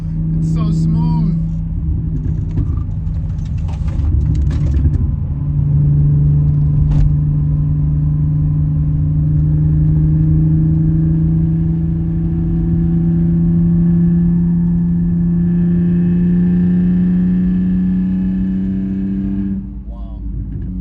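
A BMW E46 wagon cruises at a steady 4,000 RPM, its engine a loud sustained drone with a gradually rising tone inside the cabin, a few light knocks from bumps, with a voice talking over it.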